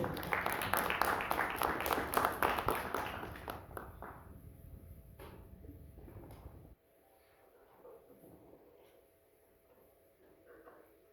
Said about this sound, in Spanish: pedirle un aplauso antes de que empiece